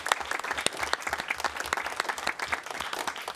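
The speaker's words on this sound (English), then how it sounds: "Round of applause for everyone today." A dense burst of audience applause at a live charity stream event, many hands clapping together in a steady, lively wash that holds throughout.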